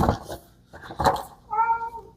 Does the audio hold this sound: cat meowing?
yes